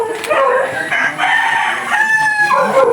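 Chickens and a rooster in a backyard coop make a busy mix of clucks and a crow, fairly loud and close, overlapping throughout.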